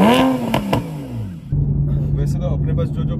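Porsche Carrera 4 with a performance exhaust revving hard, a loud rising then falling snarl up close, followed by a steady low drone as someone speaks over it.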